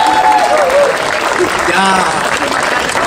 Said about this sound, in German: vielleicht könnt ihr für mich ein bisschen klatschen